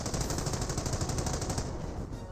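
Rapid gunfire in the WWII strategy game Company of Heroes: a steady rattling machine-gun-like stream of shots, moderately loud and continuous, with no talk over it.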